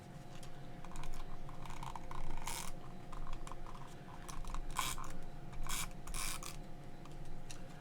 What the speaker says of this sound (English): let's use the tape runner here.